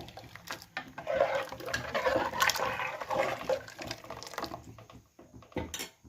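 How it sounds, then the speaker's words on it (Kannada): A pot of moong dal payasa boiling on a stove, a continuous bubbling, gurgling wash of liquid heard up close and fairly loud, with a few clinks of metal near the end. "ಚೆನ್ನಾಗಿ ಕುದಿ ನೋಡಿ ಈ ಥರ ಚೆನ್ನಾಗಿ ಕುದ್ದಿದೆ"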